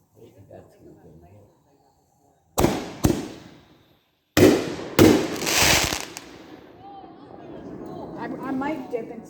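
Firework show with loud, close explosions: two sharp bangs, then after a pause two more booming blasts followed by crackling and fizzing that fades out, with people talking quietly before and after.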